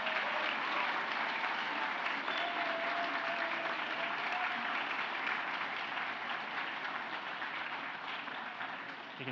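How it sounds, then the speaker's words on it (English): At a graduation ceremony for travel, business and hospitality graduates, a large audience gives sustained, dense applause to friends and family, an even roar of clapping that holds steady throughout without speech. "could you give a huge round of applause to your friends and family"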